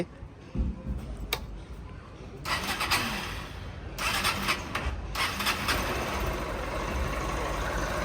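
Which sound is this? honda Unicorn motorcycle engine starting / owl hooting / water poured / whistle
honda Unicorn motorcycle engine starting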